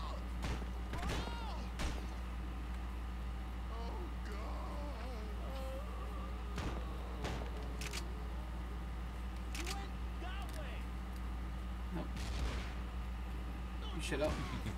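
A double-barrel shotgun fires repeatedly in the video game Postal Redux, sharp sudden blasts scattered through the scene over a steady low hum, with a person talking throughout.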